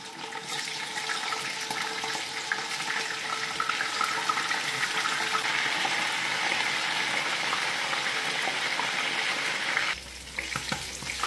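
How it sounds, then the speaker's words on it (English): Fish sizzles and crackles in preheated cooking oil, a loud continuous frying hiss close by for about ten seconds before briefly dropping. "Now I'm going to transfer in my preheated oil and allow it to fry until golden brown."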